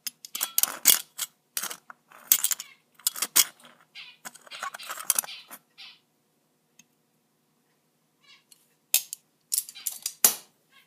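Dirty pennies shaken in a container during cleaning, heard as bursts of rapid metallic rattling and clinking, separated by short pauses and a longer near-silent gap before a final flurry.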